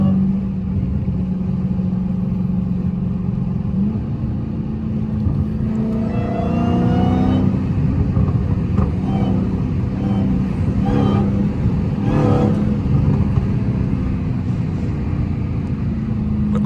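Dodge Hellcat engine running steadily up close, with a rising rev around the middle and a second swell later, under a continuous low drone; a voice speaks briefly in the background.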